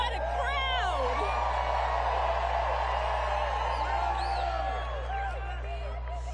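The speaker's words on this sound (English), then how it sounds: "What a crowd! What a crowd!" A large crowd at a political rally in Phoenix, Arizona roars steadily, with whoops and shouts cutting through the cheering, while a voice calls out over the din.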